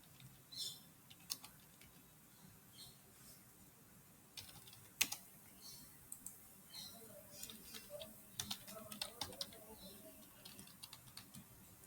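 Fingers tap out a mobile number on a computer keyboard, with quiet, irregular bursts of clicky keystrokes spread across the stretch, some single taps and some quick clusters, with no talking.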